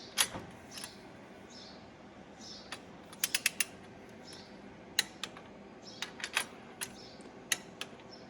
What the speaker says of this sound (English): When you have the torque setting a lot lower, it don't click near as loud.